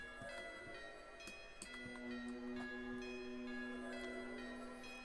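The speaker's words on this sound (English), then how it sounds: "It's a little tubular bell." Tubular bell pattern in a hip-hop beat, ringing sustained tones repeating in a steady pattern over the instrumental, moderately quiet with no talking.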